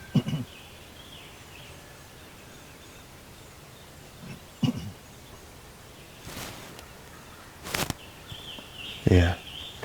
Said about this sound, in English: We got 2 birds gobbling now.